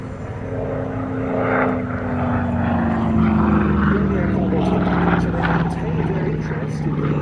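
A Curtiss P-36 propeller fighter runs its engine at a Duxford Battle of Britain air show, a loud steady drone with a slowly falling pitch, while an announcer talks over it.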